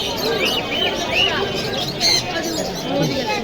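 A caged pet bird chirps and tweets in a room in short, bright repeated calls, close by, while a person talks over it.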